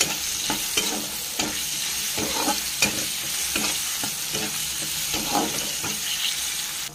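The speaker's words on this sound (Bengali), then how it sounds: "ভালো করে নাড়িয়ে নিচ্ছি চিনিটা দিয়ে" Plum chutney with sugar being stirred in a pan, a steady scraping and sloshing with a soft sizzle underneath, spoon strokes recurring in an uneven rhythm throughout.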